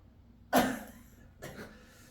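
A person in a classroom gives one sharp cough followed a moment later by a softer second cough, both close and isolated, with no talking over them.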